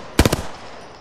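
Gunfire in Apex Legends: three quick, loud, closely spaced shots fading into a brief ringing tail.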